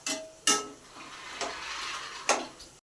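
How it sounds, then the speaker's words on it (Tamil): Fried bread being stirred into sugar syrup in a pan for bread halwa, with a soft bubbling sizzle broken by a few distinct scraping stirs, close, ending in a brief silence. "நல்லா கிளறி விட்டுக்குங்க."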